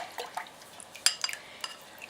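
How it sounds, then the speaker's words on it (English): Melted coconut oil and aquafaba get stirred together in a jug, with soft clinks and scrapes of a utensil against the container and faint liquid sloshing, quiet and close. "And now I'm going to mix the two together."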